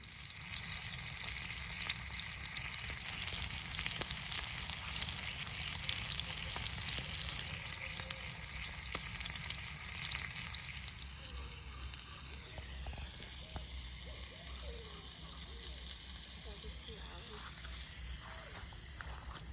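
A campfire sizzles and crackles steadily, close by, with a constant hissing texture that shifts slightly partway through.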